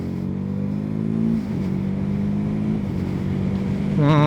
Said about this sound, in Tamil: குவிக் ஷிஃப்டர்லேயே சூப்பர் பட்டர் ஸ்மூத்தாக ஷிஃப்ட் ஆகுது